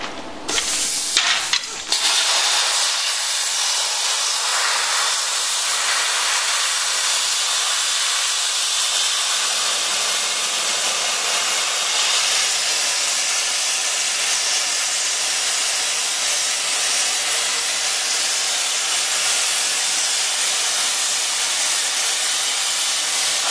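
A cutting machine rated for steel up to 1¼ inch thick, working metal for a mailbox, gives a loud continuous hissing, sizzling roar that runs steadily throughout after a few brief stutters at the start.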